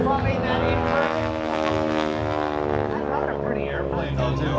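A polished propeller airplane with strobe lights flashes past at an air show, its engine a steady, loud harmonic drone that holds throughout, with people talking underneath.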